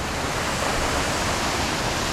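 A waterfall on a tropical island roaring in a loud, continuous broadband rush, close by, with no voices.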